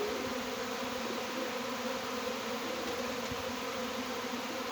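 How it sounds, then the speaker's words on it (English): A swarm of honey bees, arriving about three weeks early in the season, fills the air with a dense, continuous, steady buzzing hum that stays loud throughout with no talking. "I'm gonna tell you, this is a lot of bees."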